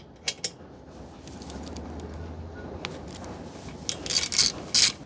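A ratchet works a bolt loose on a Honda Rebel 1100 fender, making close, repeated mechanical clicks and creaks over a low hum, with a few sharper metallic clinks toward the end.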